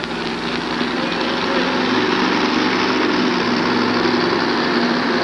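The Budweiser Avenger's engine roars continuously and loud while pulling a sled down the track at a 1988 USHRA event in Hartford, a steady dense drone with a crowd-like wash underneath.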